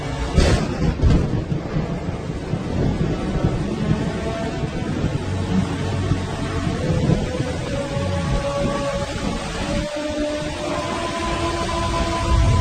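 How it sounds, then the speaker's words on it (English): A heavy thunderstorm brings the first rain in eight months to the African savanna where lions and hippos live, with loud rolling thunder rumbling over steady dense rainfall throughout. "The first rain for 8 months."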